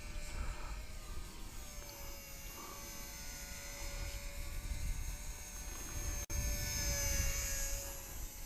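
Eachine BF109E V2 RC model airplane flying, a steady high whine from its electric motor and propeller, continuous and moderately distant, with no talking.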